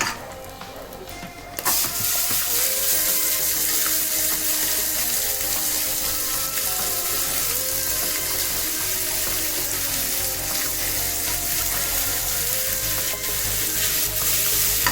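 Onion hitting hot oil with fried spices in a pan for prawn pulao, bursting into a loud, steady sizzle that continues unbroken after a brief quieter start, with faint clinks of stirring.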